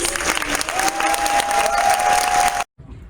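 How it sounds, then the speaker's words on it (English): Convention audience at Everfree Northwest applauding VIP guests and artists, loud dense clapping with a whistle and cheering, cut off abruptly near the end. "Let's give them a round of applause"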